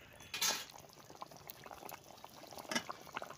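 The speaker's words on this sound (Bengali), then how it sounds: "মাছগুলো সব ছেড়ে দিচ্ছি, মাছগুলো জাল হবে" Pieces of big katla fish dropped into a hot pan give two short, hissing bursts of sizzle, one near the start and one later, over a low steady crackle. No one speaks.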